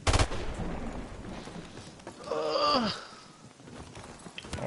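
Gunfire in a Call of Duty 4 search-and-destroy match: a burst of sharp shots opens the clip, followed by a brief swelling tonal effect in the middle and scattered quieter game noise.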